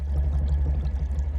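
Water being poured from a bucket to refill a water jug in the driving game Nomad Drive: a short, steady gurgling pour, close and fairly loud, with no talk over it.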